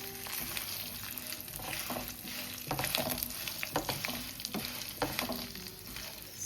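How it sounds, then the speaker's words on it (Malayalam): Onion, dried chili, ginger and garlic sizzle in oil in a pan for a Kerala-style chutney, with a steady close crackle and intermittent scraping stirs. "ഇനി എല്ലാം കൂടി നന്നായിട്ടൊന്ന് വഴന്ന് വരുന്നവരെ വെയിറ്റ് ചെയ്യാം."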